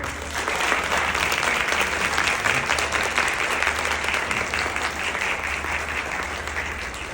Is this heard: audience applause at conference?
yes